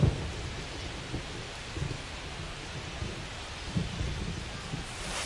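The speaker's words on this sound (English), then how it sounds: "This rain is not letting up." Rain pours and thunder rumbles during a baseball video game, a steady hiss of rainfall with several low rolling thunder swells rising and fading across the stretch, alone without talk.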